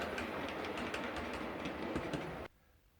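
A model railway Class 501 electric train climbs an upslope with a loud, steady rumble and rhythmic clickety-clack of wheels, cutting off abruptly near the end to quiet.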